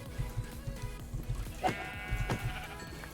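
Sheep in the Minecraft video game bleat several times in short nasal calls over a low rhythmic background of game sounds, with one louder bleat midway and no talking.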